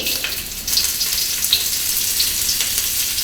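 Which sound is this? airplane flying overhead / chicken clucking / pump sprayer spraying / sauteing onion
sauteing onion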